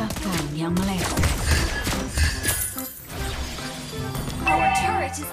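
Rapid gunshots from Lesley, the sniper hero in the mobile game Mobile Legends, crack repeatedly over layered battle effects and game music, loud and close throughout.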